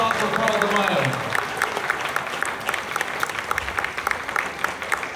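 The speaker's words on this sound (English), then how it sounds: "Give a big round of applause for Carl DeMaio." Audience applause at a California political rally opposing Prop 50, a dense crowd clapping steadily throughout, with cheers and voices mixed in near the start.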